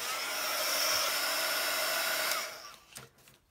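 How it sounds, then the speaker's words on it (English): A hair dryer blows steadily on a paper craft shadow box project, a close, loud whooshing hum that runs for over two seconds, then switches off and winds down, leaving a few small handling noises. "So I'm just going to dry this quick."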